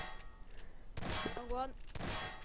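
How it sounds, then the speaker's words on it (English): Gunfire in the video game Garry's Mod Prop Hunt: a few sharp, loud shots in quick succession, with a voice speaking briefly between them. "He's shooting at the other one."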